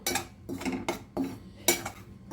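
Raw rice flour dry-roasted on a low flame in a kadai for maavilakku, with a spoon scraping the pan in four distinct strokes separated by short pauses, close and moderately loud.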